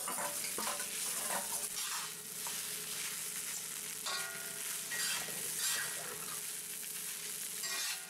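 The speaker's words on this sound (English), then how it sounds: "Once everything is good and hot, we mix in the cooked tuna." Cooked tuna tossed through a ramen noodle stir fry, a continuous close sizzle broken by repeated scraping and clattering stirs, fairly quiet overall with no talking.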